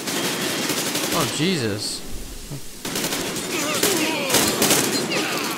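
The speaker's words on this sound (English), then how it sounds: "They shot me twice." Rapid bursts of enemy gunfire in the video game Metro Exodus, loud and repeated in volleys over a brief pause, with a man's startled exclamation in between.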